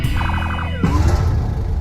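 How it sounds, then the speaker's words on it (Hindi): An ambulance siren arriving at a house in a zombie film scene, loud and close, with a rapid warbling wail that shifts into a smoother tone partway through, over rumbling background noise. "अब तभी उनके घर एम्बुलेंस आ जाती है, जिसकी अंदर से जून के डैड बाहर आते हैं"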